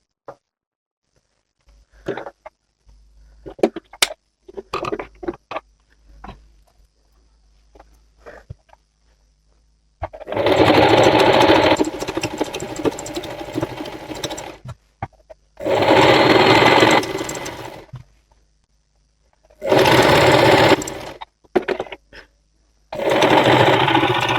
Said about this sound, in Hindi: यहाँ पे हम 1/2 इंच पर स्टिच लगाते जाएंगे।